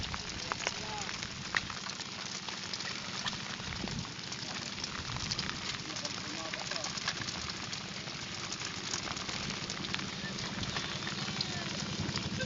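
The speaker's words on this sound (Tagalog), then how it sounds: "Ang lakas ng ulan. Hindi na kami tinigilan ng ulan." Heavy rain pours at night on the open sea during night fishing near Capones Island. A continuous, crackling hiss of rainfall goes on without letup over a low engine hum.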